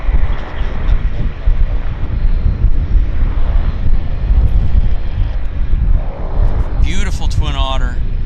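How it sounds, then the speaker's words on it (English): A de Havilland Twin Otter on amphibious floats gives a steady propeller and engine drone at an airport, heard outdoors with wind buffeting the microphone and a person talking over it. "Beautiful Twin Otter. Love it. Again, it's very rare to see a Twin Otter on amphib floats."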